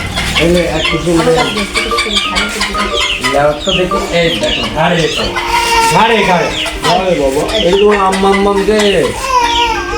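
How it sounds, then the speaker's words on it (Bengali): Chickens clucking in a rural village yard in winter, a steady run of hen calls mixed with close, loud voices of adults and children talking over them. "এটা কো মুরগি এটা কো মুরগি এটা কো মুরগি"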